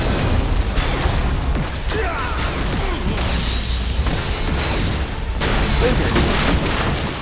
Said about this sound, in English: I use the Pulse Bolt, which is an area attack to clear stuff